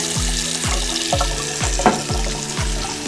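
Water runs from a newly installed Moen bathroom sink faucet, a steady hiss of flow with faint, rhythmic low thumps recurring beneath it, close and continuous.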